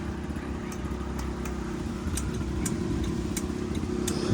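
A Yamaha Jog SA16 scooter engine from Japan idles steadily with a low, even droning hum and faint rattly texture, close by and alone, swelling slightly louder toward the end.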